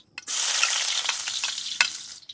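Ginger sizzling and crackling in hot oil in a pan, a loud steady fry starting after a short pause, with a few sharp stirring scrapes cutting through, no one talking.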